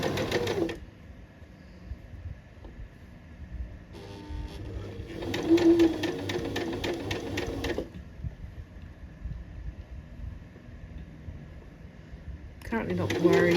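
A sewing machine stitches a shirred dress in bursts of rapid, close mechanical whirring, stopping and starting between runs, with quiet room tone in the pauses.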